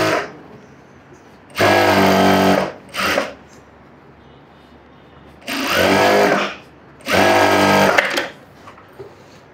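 A sewing machine stitches lining in four separate bursts, each a loud, fast, rattling whir lasting about a second, with quiet pauses between runs.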